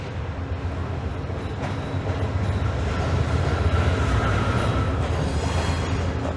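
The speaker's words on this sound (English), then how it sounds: "I think we have a Via train about to roll past here" Via Rail passenger train rolling past near downtown Toronto on the Lakeshore West corridor, a steady loud rumble of wheels and cars on track that swells slightly as it passes, with faint clatter and no talk.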